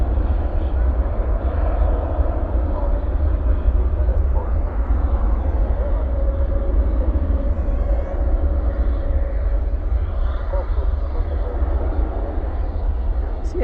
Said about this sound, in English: Either the Maxes have a really hard time taking off, or both of those Maxes were really heavy.